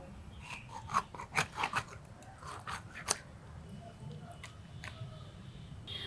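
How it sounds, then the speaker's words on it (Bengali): A knife cuts through raw carp on a home kitchen surface, with scattered scraping and crunching strokes that rise and fall unevenly over low room noise and then fade into quieter rasps. "মাছ কাটাকাটি হয়ে গেল"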